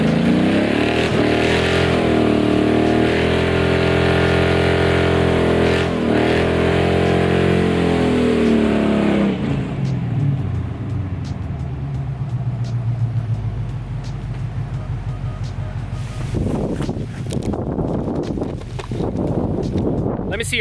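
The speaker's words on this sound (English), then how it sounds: "New tires, new burnout, gotta be done, eh?" A car on new tires does a burnout: a loud, sustained high-revving engine wail that drops to a lower rumbling roar partway through, with a voice speaking over it.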